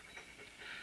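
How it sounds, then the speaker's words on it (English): A guard dog pants in a run of rapid, breathy rasps, close and fairly steady, with no talk over it. "Want to see our new dog?"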